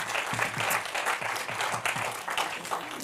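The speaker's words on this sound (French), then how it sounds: "Je vous propose de les applaudir encore une fois" An audience applauds the panelists at an innovation conference on sustainable aviation fuels. The clapping is steady and dense, a full room applauding continuously with no speech on top.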